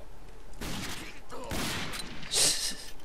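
A few loud, close gunshots in the shooter game Rage, fired one after another over about three seconds against a low game ambience.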